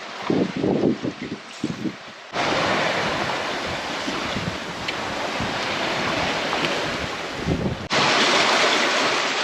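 Strong wind roaring over a sailboat at sea off Sicily, gusting against the microphone with waves and water rushing past, loud and continuous, with brief louder surges.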